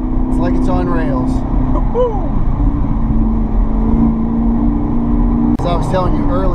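A 675-horsepower Chevrolet Camaro ZL1 with the A10 automatic transmission holds a steady engine drone while cruising on back roads, close and constant, as people in the car shout and whoop over it.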